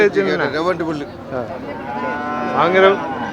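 Cattle low repeatedly at the Manapparai livestock market in Tamil Nadu, loud and close, with several drawn-out moos following one another over a busy market background.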